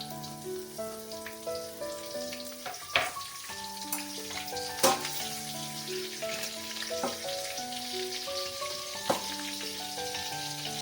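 Curry leaves and slit green chillies crackle in hot oil for a quick puffed-rice chivda, a steady sizzle with a few sharper pops, heard under background music.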